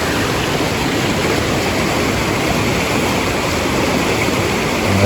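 A rain-swollen river rushes past a crossing with bolted, lowerable railings, a steady, loud broadband roar of flowing water holding constant throughout with no voices.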